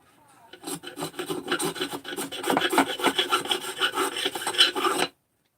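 A scraper is drawn in quick repeated rasping strokes during bearing removal on a Husqvarna 288XP chainsaw, close-up and rhythmic, building slightly louder before stopping abruptly, with no one talking.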